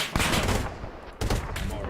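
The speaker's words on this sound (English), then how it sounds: "I just got shot." Rapid automatic gunfire from the military shooter game Arma 3, loud bursts of rattling shots in two clusters with a short lull between, sounding close and filling the whole clip.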